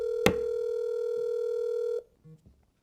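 A telephone dial tone hums steadily for about two seconds after a sharp click, then cuts off, followed by a couple of brief, quieter line tones as the call connects.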